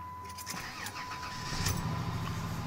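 A 2000 Dodge Grand Caravan SE engine with 192,000 miles on it cranks and fires up on a cold fall morning, a short starter whir building into a steady running rumble, fairly close with no talking.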